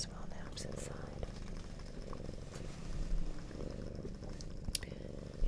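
Cat purring close and soft in a steady low rumbling rhythm, with faint whispering over it and a few small rustles.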